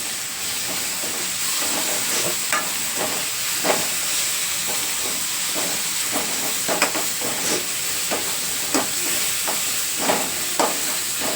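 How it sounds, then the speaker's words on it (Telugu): Ginger garlic paste frying with onions in hot oil, a steady hissing sizzle with scattered pops and crackles from occasional stirring, close and continuous, no voices. "ఈ అల్లం వెల్లుల్లి కూడా బాగా పచ్చివాసన అంతా పోయే వరకు ఆయిల్లోనే ఫ్రై అవనివ్వండి"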